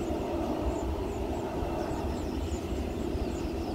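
A Garuda airliner at the south end of the runway at Sultan Hasanuddin airport in Makassar, a steady loud jet engine roar with broad rumble holding level throughout, no voices.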